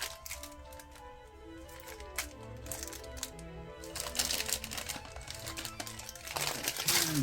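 Plastic bags from a Lego Speed Champions Porsche 963 set crinkle and rustle continuously near the microphone as the parts are unpacked, with small clicks of loose pieces and a louder crackle toward the end.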